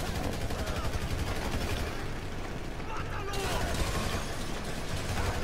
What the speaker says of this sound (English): let's shoot now